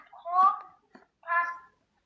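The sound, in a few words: cat meowing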